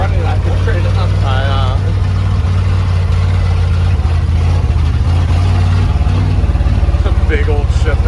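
A 1971 Ford F-350 truck engine runs rough with a loud, constant low rumble and an uneven, lumpy idle. A voice speaks over it.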